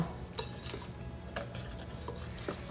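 Jalapeño cornbread batter whisked in a bowl, with a few soft scraping and clinking strokes of the whisk against the bowl, close and fairly quiet, no voices.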